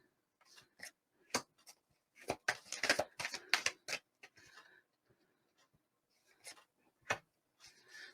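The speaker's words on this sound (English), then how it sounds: "Let's go ahead and draw your cards" Tarot cards are drawn and laid out from a deck, giving quiet papery rubs, flicks and taps in irregular bursts with pauses between them, close and soft, with no voices.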